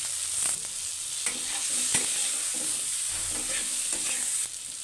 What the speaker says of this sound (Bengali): এবার আমি পাতলা করে কেটে রাখা আলু দিয়ে দেব।